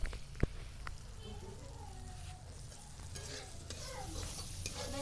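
Spice masala with cashew paste and salt frying in a pan, a steady close sizzle with scraping stirs and a sharp clank near the start, while soft voices talk faintly in the background.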